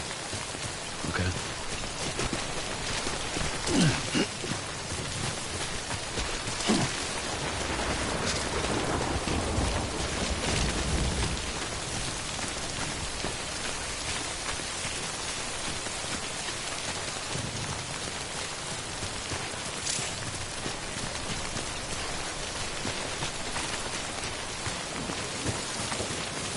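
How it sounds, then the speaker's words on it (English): Steady rain pouring in the video game Death Stranding, a dense continuous hiss of drops on surfaces with a few low rumbles like distant thunder, constant and enveloping for the whole stretch. "Wait out the rain over there"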